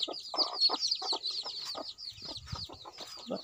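A hen clucks softly while chicks peep rapidly and continuously in high tones close by.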